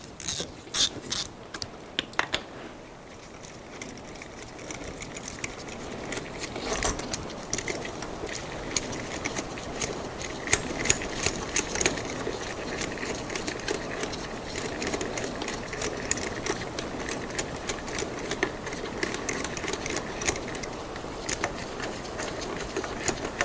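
Bolts on the turbo pedestal of a Mercedes Sprinter van being undone, with steady clicking, ratcheting and metallic tool noises that continue throughout against a busy workshop background.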